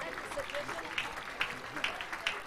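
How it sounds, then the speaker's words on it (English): A church congregation clapping during a healing service in Abuja, faint rhythmic claps mixed with voices and crowd noise. "Clap for Jesus, clap for Jesus."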